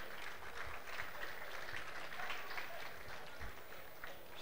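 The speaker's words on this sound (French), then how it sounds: "Applaudissements, je vous prie, pour Rebecca, Rebecca et Julie." Faint, distant applause ripples through a room at an African awards gala, a soft steady patter of clapping hands at low level without clear speech over it.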